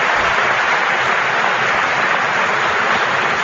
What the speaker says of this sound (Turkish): Ama niye alkışlıyorsunuz?